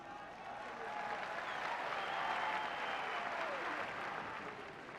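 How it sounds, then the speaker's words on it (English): An arena crowd at a Pride mixed martial arts event applauds a fighter, a steady wash of clapping and cheering that swells and fades, heard from within the venue. "Getting a huge ovation here from the crowd."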